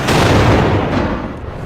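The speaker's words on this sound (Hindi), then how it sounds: "ये देखिए इस्फहान शहर पर जबरदस्त धमाका किया गया" An explosion during an attack on the city of Isfahan, captured in news footage, gives a sustained, loud broadband roar and rumble with no clear pauses and no voices.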